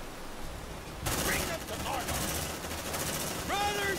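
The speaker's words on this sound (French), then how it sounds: "Escouade Devastator en position. Tir de suppression." Squad suppressive gunfire in the sci-fi video game Aliens: Dark Descent, a sustained burst of rapid shots starting abruptly after a quiet second and continuing to the end, with brief whistling game effects near the close.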